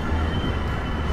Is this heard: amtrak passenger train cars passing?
yes